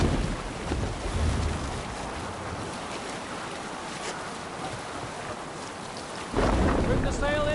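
Sailing ship at sea in Assassin's Creed Valhalla: a broad rushing roar of wind and waves with creaking, surging louder near the end, and a voice calling out briefly.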